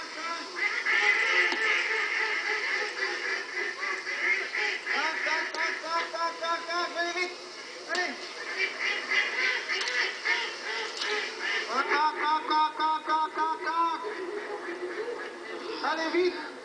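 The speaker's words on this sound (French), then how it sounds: "Une colonie de canards sauvages s'est peu à peu installée" A colony of wild ducks quacks continuously at close range, with many overlapping honking calls in a busy, steady chorus.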